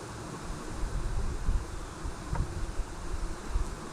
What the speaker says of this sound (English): there's still bees in here